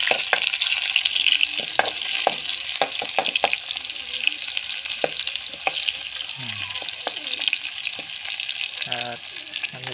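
Garlic and onion frying in a pan, a dense steady sizzle with repeated clicks and scrapes of a spatula stirring, and a brief voice murmuring in the background.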